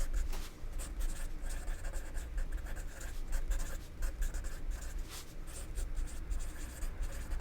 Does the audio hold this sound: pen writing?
yes